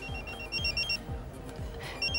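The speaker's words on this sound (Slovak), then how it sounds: "Ah, niekto volá." Phone ringing with an incoming call, a repeated electronic trilling ring tone in short bursts, fairly faint beneath low room noise.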